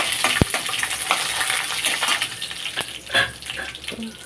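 Dried red chilies dropped into a hot pan with urad dal for mint chutney, a sharp sizzle and crackle of frying oil, close and steady with light stirring over a short stretch.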